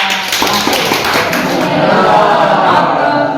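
Classroom applause from students, a close, loud patter of hands clapping with a few heavier taps and thumps mixed in, continuing steadily for a few seconds.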